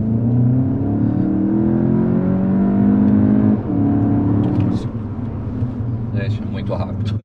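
A 2020 Volkswagen Jetta GLI accelerates hard from 40 to 100 km/h, as if passing a truck. Its engine note climbs steadily from inside the cabin, drops at a gear change, then rises again before easing off.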